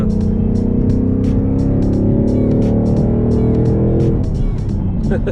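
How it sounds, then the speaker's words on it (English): A Ford Mustang GT pulls hard in third gear, heard from inside the cabin as a loud, deep engine drone that climbs steadily in pitch for about four seconds, then drops off as the throttle lifts. "You could try a third gear pull. All right, let's ease into it."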